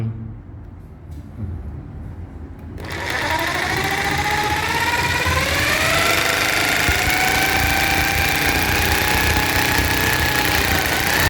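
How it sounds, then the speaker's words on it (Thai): An electric drill bores into a wall for mounting a curtain rail, with a bag held under it to catch dust. After a quiet start, a loud, steady whining motor with a slowly rising pitch runs close by without talk. "เอาสว่านเตรียมเจาะ ใช้ถุงรองก่อนนะครับ ฝุ่นจะได้ไม่กระจาย"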